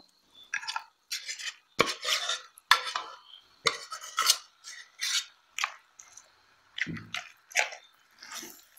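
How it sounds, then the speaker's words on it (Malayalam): Kappa biriyani in a pot being stirred and mixed with cooked meat and gravy, a utensil scraping and clattering in repeated close strokes with soft wet squishing, no voices. "ഇതെല്ലാം ഇങ്ങനെ അങ്ങോട്ട് ചാറോട് ചേർത്ത് മിക്സ് ചെയ്യുക."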